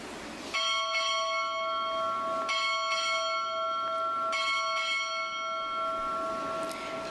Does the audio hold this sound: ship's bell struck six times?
yes